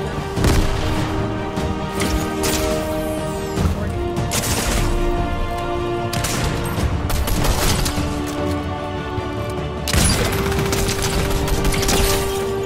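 Rapid gunfire bursts from Fortnite, loud and dense, coming in several volleys over a continuous game soundtrack, with the sound of excited players in the background.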